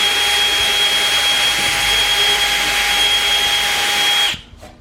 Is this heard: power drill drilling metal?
yes